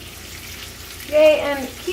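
Potatoes for a frittata frying in a pan, a soft steady sizzle that swells briefly as more potatoes go in, near and moderately loud, with no talk.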